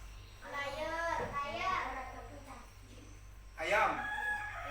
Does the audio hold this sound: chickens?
yes